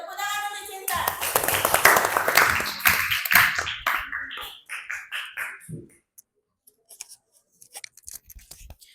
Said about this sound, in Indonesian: Ya, tepuk tangan untuk Cinta.